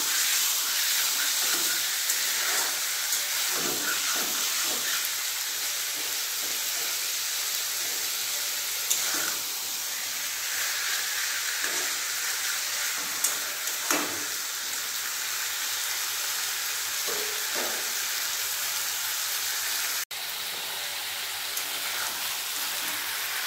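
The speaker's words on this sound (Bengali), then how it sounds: "ম্যারিনেট করে রাখা চিকেনটা তেলের মধ্যে দিয়ে দিয়েছি। এরপর ভালোভাবে কষিয়ে নেব।" Marinated chicken frying in oil for chicken curry over a raised gas flame, a steady dense sizzle like rain, close and constant with occasional sharper pops, no voices.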